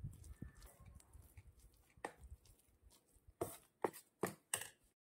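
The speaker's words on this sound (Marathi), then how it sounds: "आणि आता हे पूर्ण सारण फेटून घ्यायचं आहे" Spoon beating a thick ground urad, moong and chana dal vada batter in a bowl, a few scattered soft taps followed by several sharp, distinct slaps toward the end, fairly close and quiet.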